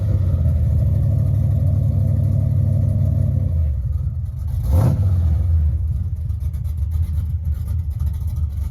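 A Chevrolet El Camino fitted with 3-inch sprint car mufflers idles with a deep, loud rumble, then gives one sharp rev near the middle that rises and settles back to a steady low burble.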